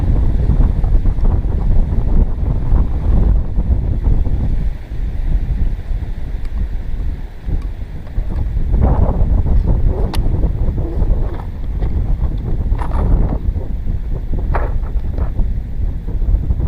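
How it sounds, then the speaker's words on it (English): Steady wind buffets the microphone at a long-range rifle shooting range, blowing loud and continuous with gusts, a right-to-left crosswind of about 8 to 10 mph. "Wind from right to left, 8 to 10 mile an hour."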